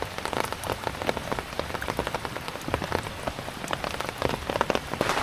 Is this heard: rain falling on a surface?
yes